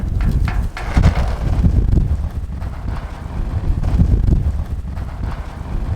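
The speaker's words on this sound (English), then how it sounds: "The wind picked up super crazy." Strong gusting wind buffeting the microphone beside a car trailer, a loud rumbling roar that swells and dips over several seconds without speech.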